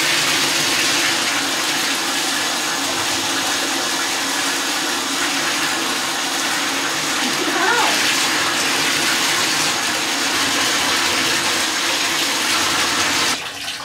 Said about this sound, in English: Okay, so for now I just rinsed out the color.